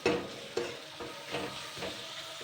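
A spoon stirs powdered spices and ginger-garlic paste in a frying pan for a vegetarian taro-leaf (kochu shaak) dish, giving soft scraping strokes over a quiet oily sizzle, close and moderately faint, with no talking.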